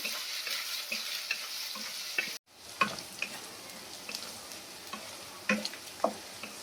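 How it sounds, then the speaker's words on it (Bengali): Potatoes frying with salt in a pan for a crispy chicken dish, a steady close sizzle broken by a brief near-silent gap, then resuming with scattered stirring scrapes and clatters. "নুন দিয়ে দেবো, দিয়ে আলুটাকে ভালো করে ফ্রাই করে নিই।"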